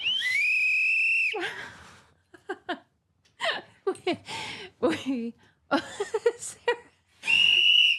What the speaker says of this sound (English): where's my whistle?